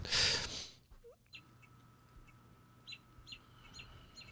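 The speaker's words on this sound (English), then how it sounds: "Is that the sound of birds singing in the background?" Faint birds chirp outdoors, heard through an open window, in short, scattered calls after a brief loud burst at the start, with a low steady hum underneath.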